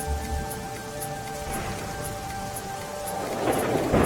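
Heavy monsoon rain pours down steadily during flooding in Gujarat, a dense, even hiss with a low rumble of thunder swelling near the end, with no voices.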